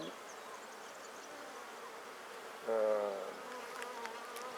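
Honeybees hum inside an opened hive of a donor colony being inspected after a split. A faint, steady buzz runs throughout, and a louder, close buzz swells briefly near the middle.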